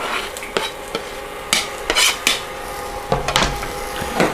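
Garlic and onion cooking on low heat in an induction pan, with a faint sizzle under a series of sharp stirring knocks and scrapes against the pan.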